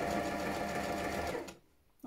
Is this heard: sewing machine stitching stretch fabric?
yes